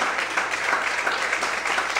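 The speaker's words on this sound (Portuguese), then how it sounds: "Você pode aplaudir o Senhor em paz." A church congregation applauds during worship, a continuous even patter of many hands clapping at moderate volume with no clear voices on top.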